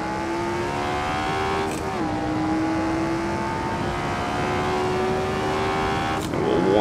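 A Grand Prix Legends race car in Assetto Corsa at Longford, its engine droning steadily at high revs with a couple of brief gear-change dips, loud and close throughout.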